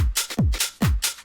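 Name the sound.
layered drum loop groove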